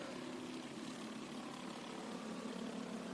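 Junior sprint race car engines droning steadily at a dirt track during a speedweek night race, a constant mid-pitched hum heard at a distance with no clear passes.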